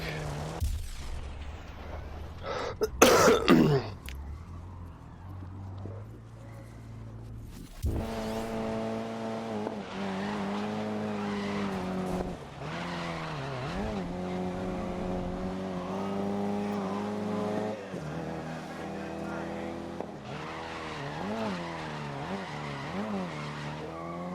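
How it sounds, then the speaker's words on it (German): Go-kart drifting in the racing game GRID (2019), its tires squealing over a droning engine whose pitch rises and falls through the slide, after a few sharp bangs at the start; no talk. "Schöner Drift gewesen."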